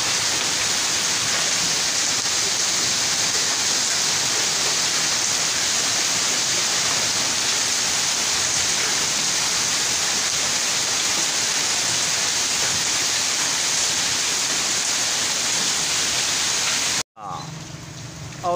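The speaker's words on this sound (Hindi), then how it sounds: "औले ही औले बारिश ही बारिश" A heavy hailstorm with pouring rain in Taxila makes a dense, steady roar of hailstones and rain, loud and unbroken for most of the clip before it cuts off abruptly near the end.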